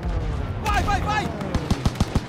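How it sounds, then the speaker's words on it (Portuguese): Anti-aircraft fire in Call of Duty WWII on Xbox One comes as a rapid string of sharp, punchy gunshots in the second half, after a stretch of in-game shouting and radio voices. "Aquilo é disparo de arma antiaérea."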